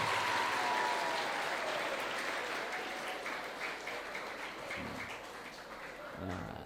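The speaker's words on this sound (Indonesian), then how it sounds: "Aplaus, tepuk tangan untuk kita semuanya." Audience applause at a seminar in Malang marking the 10 November history week, dense and steady clapping from a hall crowd that holds throughout and tapers only slightly near the end.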